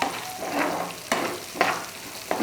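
Sliced onions fry and sizzle in a pan with sugar added, a steady hiss broken by three or four sharper stirring scrapes, close and fairly loud with no talking.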